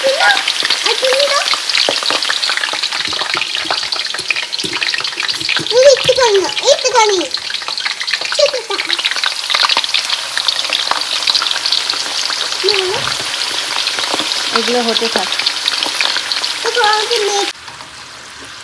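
Potato chips fry in hot oil in a home kitchen, giving a steady, loud bubbling sizzle that runs almost the whole time under a voice, with occasional stirring, then stops near the end.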